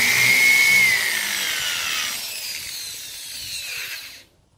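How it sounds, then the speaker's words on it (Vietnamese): A handheld power drill set to spin in reverse whirs loudly and steadily as it bores a hole, its pitch sagging slightly under load before it stops abruptly. "cái cò của cái khoan á, thì bây giờ mình sẽ chỉnh ngược lại các bạn, để cho cái lưỡi khoan này nó xoay ngược lại"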